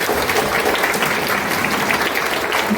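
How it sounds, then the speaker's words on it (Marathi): Dense, loud applause from an audience at a public health event, steady sustained clapping filling the whole stretch with no pauses. "एकदा टाळ्या वाजवून त्यांचा अभिनंदन"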